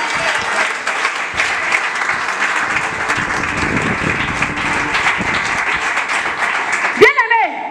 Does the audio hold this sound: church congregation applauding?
yes